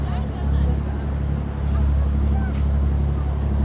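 A steady low tour boat engine drone runs throughout with water noise on top, while people chatter indistinctly in the background, at Halfeti, Turkey.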